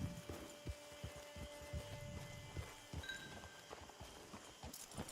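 Horse hooves clip-clopping in Red Dead Redemption 2, a steady walking rhythm of soft thuds repeating throughout, fairly quiet, with a faint tone lingering in the background.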